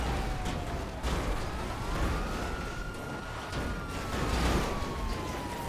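Police car sirens during a city fight in a video game: rising and falling wails sweep across the clip at moderate distance over a rough background rumble.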